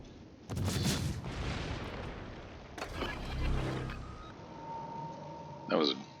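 Naval gunfire in a battleship video game plays as several deep booming shots, one near the start and another midway, each with a rolling tail, while a voice talks over the game audio.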